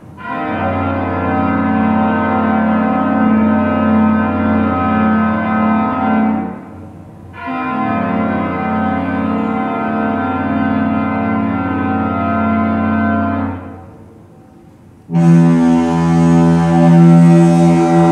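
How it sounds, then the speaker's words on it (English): A ship's foghorn blasts three times, with two long, loud, brutal tones of about seven seconds each separated by a short gap, then a brighter, harsher third blast, heard up close with no talk. "these two sounds of the foghorn. This very brutal sound that you get when you're up close"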